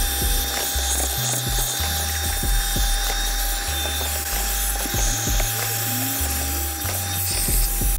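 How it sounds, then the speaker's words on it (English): Car interior dashboard and door cards being hoovered with a vacuum cleaner, a steady loud motor drone with rattling, clicking nozzle scrapes and bumps against the trim throughout. "Now what we're going to do is just give the dash hoover, get rid of all the dust, door cards, things like that"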